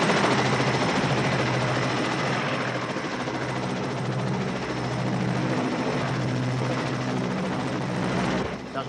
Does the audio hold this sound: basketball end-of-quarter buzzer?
no